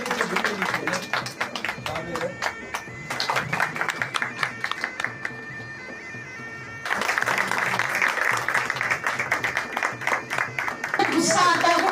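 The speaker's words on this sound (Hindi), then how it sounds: "जोरदार तालियों से स्वागत।" Applause from the audience at an International Women's Day seminar welcomes a woman artist onto the stage, with bursts of clapping mixed with crowd noise and a voice over it, fading briefly before swelling again.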